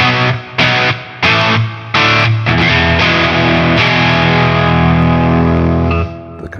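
Overdriven electric guitar with a bright, gritty bridge-pickup tone, a few choppy strummed chords giving way to a long ringing chord that sustains, loud and up close.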